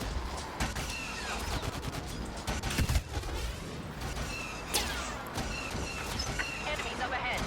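Rapid weapon fire in Star Wars Battlefront plays continuously, with sharp shots and blasts over a dense, busy mix of game sounds.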